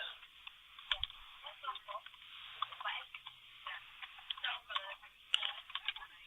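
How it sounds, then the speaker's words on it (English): Someone typing on a keyboard during a podcast recording, heard as quiet, uneven clicking under a muffled, band-limited sound with faint background. "I'm just typing up"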